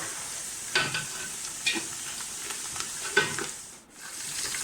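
Curry leaves and a cinnamon stick fry in hot oil for vegetable rice, with a steady soft sizzle and a few louder crackles as a spoon stirs the pan, close up and without talk.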